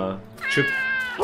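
A cartoon cat in the video game Lost in Play lets out one drawn-out, bright meow, loud and close, just after a brief spoken word at the start.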